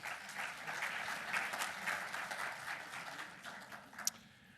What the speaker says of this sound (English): So a little applause for Matt's service.